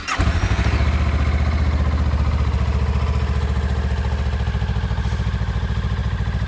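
A 2017 Honda CMX 500 Rebel motorcycle cranks and fires up with its stock exhaust, then settles into a steady, loud, close idle with an even rhythmic thrum and no talking.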